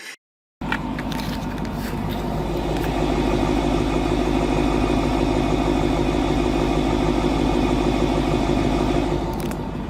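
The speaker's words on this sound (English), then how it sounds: "This engine sound is just beautiful." A deep, throaty 5-liter V8 engine of a 2021 Lexus LC 500 Convertible idles steadily and loudly after a brief cut at the start, a constant low rumble with no talking.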